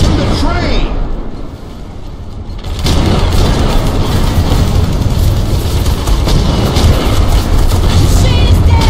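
Loud rumbling rail noise from the train in Terminator Salvation, a dense continuous roar with boom-like impacts, dipping briefly early then surging back under battle clamor and shouting voices.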